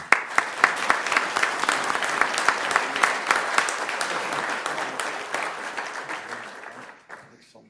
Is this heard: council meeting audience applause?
yes